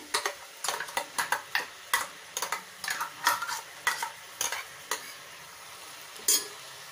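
A spoon stirs pigeon peas and vegetables as they fry with ground sambar masala in a pan, making a string of close, crisp scraping clicks over a faint sizzle.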